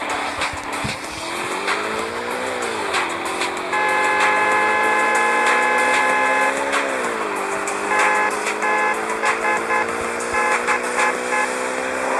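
Traffic Racer gameplay, with a synthetic car engine droning and climbing in pitch through gear shifts, passing traffic swooshing and short electronic beeps layered on top.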